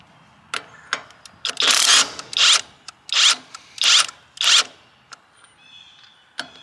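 An OLMLMO cordless 1/2-inch drive impact wrench rated at 800 ft-lbs, used to rip off a bolt or lug nut, fires several loud, close hammering bursts of about a second each, with short trigger blips between them.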